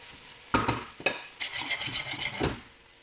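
Red and green peppers, cut small, sautéing in butter in a pan, with a soft steady sizzle under scraping stirs and a couple of sharp utensil knocks against the pan.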